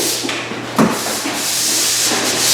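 Sanding pole rubbing across drywall, a continuous broad hissing scrape that stays close and loud throughout with a brief knock partway in, and no talking.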